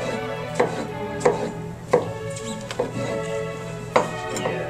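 A very sharp knife chops tomatoes into strips on a cutting board, with about seven crisp, evenly spaced knife strikes against the board, close and clear, with no talking.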